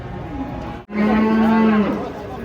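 A cow moos once, loud and close, with a long sustained low call after a brief gap, amid farm noise as cattle are unloaded from a truck.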